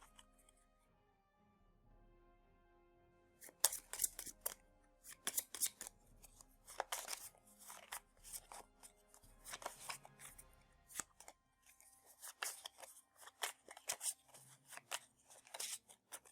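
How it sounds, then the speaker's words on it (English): Cards from a Dark Souls board game deck are shuffled by hand. Quiet riffling and snapping bursts start after a near-silent opening and come in clusters of crisp, close flicks until the end. "We take his heat up cards, shuffle them, and add 1 to his behavior deck, which then also gets reshuffled"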